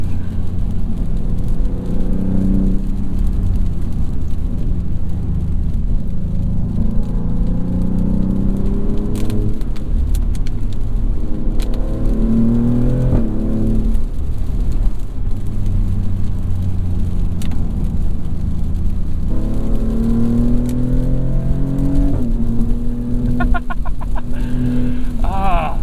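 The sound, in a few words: Maserati GranTurismo Trofeo engine and exhaust noise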